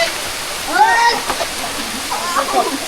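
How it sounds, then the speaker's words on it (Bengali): A waterfall at Sajek roars in a constant, loud rush of falling water close by, while a person talks over it. "ঝর্ণা আপনাদের একটু দেখায় ওই যে ঝর্ণা"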